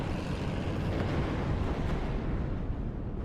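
Rocket launcher fire and explosions in the WARNO real-time strategy game, a dense, continuous rumbling roar of blasts that stays loud and steady, with no talk over it.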